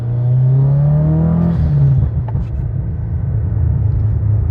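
A 2012 Subaru WRX STI cruising through downtown Winnipeg, its steady low engine rumble rising briefly as it revs, then settling into a continuous drone with road noise heard from inside the car.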